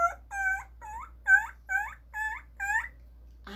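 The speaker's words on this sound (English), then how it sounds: "you know the sound of a puppy when it is scared and frightened?" A frightened puppy whimpers in a run of six high, tremulous whines, each about half a second long and evenly spaced, close and clear against near silence.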